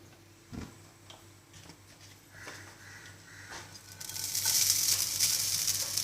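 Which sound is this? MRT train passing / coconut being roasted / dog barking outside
coconut being roasted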